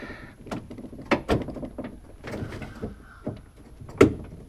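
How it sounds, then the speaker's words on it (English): Metal clunks and scrapes inside the front door of a 2014 Honda Odyssey as the door latch assembly is rotated and drops into the door cavity, a series of sharp knocks and rattles ending in one louder thunk. "that should let the door latch assembly drop down into the door"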